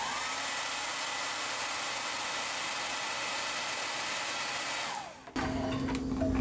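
A heat gun heat-sets paint on a fishing lure, blowing a steady, close, hissing rush of air for about five seconds before cutting off abruptly. A brief rustle and a lower hum follow.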